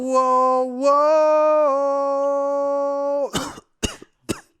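A long sustained vocal tone holds for about three seconds, then three short, forced coughs follow in quick succession.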